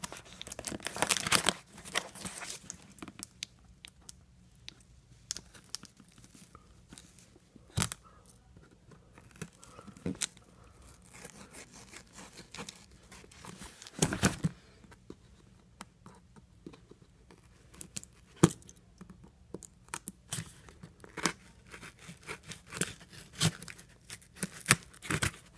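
An AmazonBasics 60-inch lightweight tripod comes out of its cardboard box in scattered close crinkles, tears and scrapes of cardboard and packaging, quiet with frequent pauses.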